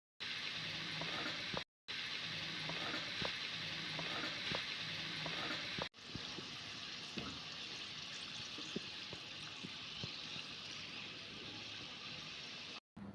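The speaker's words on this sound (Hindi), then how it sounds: "एक बार में 3 से 4 पीस गुजिया डालेंगे और फ्राई होने के लिए रख दें" Gujiya pastries frying in warm oil in a kadhai, a steady close sizzle and fine bubbling crackle that continues throughout, with a brief break and a slightly softer stretch later on.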